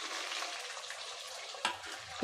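Steady hissing sizzle of chopped onions and curry leaves frying in hot oil for a crab curry, close up, with a brief clatter of stirring near the end.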